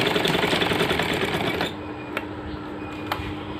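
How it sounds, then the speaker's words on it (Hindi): A sewing machine stitches along the edge of a cuff, a fast steady rattling whir up close for just under two seconds, then stopping, leaving a quiet hum with a couple of small clicks. "ये मैंने किनारे की सिलाई लगा ली है कफ की।"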